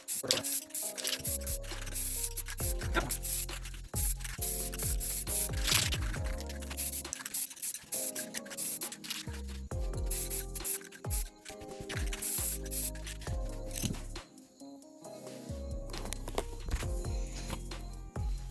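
Spray paint hissing from an aerosol can onto a shotgun in a camo paint job, a loud close run of long continuous bursts broken by short pauses, with rattling and handling noise in between.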